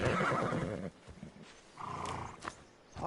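A horse in Assassin's Creed Discovery Tour lets out a loud, close neigh with a wavering whinny, then a shorter second snort-like call, with faint hoof and ambient game sounds between.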